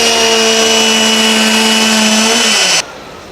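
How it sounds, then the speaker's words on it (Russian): High-speed electric drill boring into timber beams on a house build site, a loud sustained whine that dips in pitch and then cuts off abruptly near the end, up close with no speech. "И вот еще пошел второй инструмент. Дрель оборотистая."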